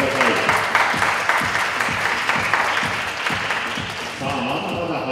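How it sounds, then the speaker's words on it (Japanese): An audience applauds at a 10m air pistol mixed team competition in Japan, clapping steadily and fairly loud while an announcer keeps talking over it throughout. "大きな拍手をお送りください。"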